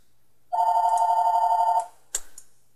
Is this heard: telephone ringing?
yes